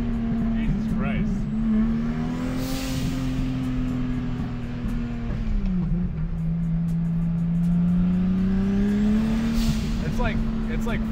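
A 1000hp Lexus IS300 at full boost with tire spin, its engine holding a loud, steady drone that dips briefly and then climbs again, with voices over it.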